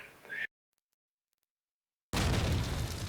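A grenade explosion in Call of Duty 2 on the Dawnville map erupts suddenly after a brief silence, a loud, close, broadband blast that keeps roaring for about a second.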